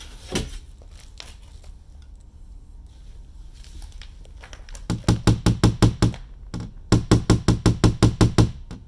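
Close, sharp metal taps from a tool knocking down a high spot on a dented car door during paintless dent repair: scattered single knocks at first, then two fast, even bursts of about eight taps each.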